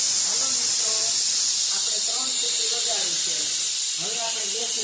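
A pressure cooker on a gas stove, cooking a tomato-based vegetable dish, lets out a continuous loud hiss of escaping steam, with a person's voice faintly audible underneath.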